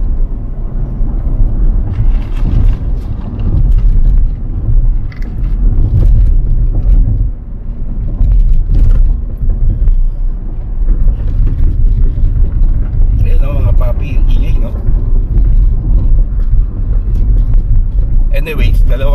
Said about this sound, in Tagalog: So naririnig niyo ba mga paps yung gulong natin na kalampag ng kalampag?